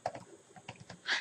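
Short burst of computer keyboard typing, a quick run of light key clicks at close range, fairly quiet, with no voices.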